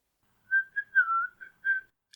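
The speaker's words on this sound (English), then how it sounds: "He continues whistling." A man whistles a short melodic tune alone, a few clear rising and falling phrases in a quiet setting, part of a stage comedy scene.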